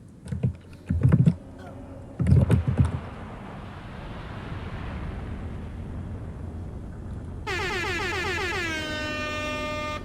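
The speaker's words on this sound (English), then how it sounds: "I have way too much fun with those air horns." Two loud bursts crack out early, then a low rumble sits for a few seconds before a blaring air horn blasts, its pitch wavering near the end.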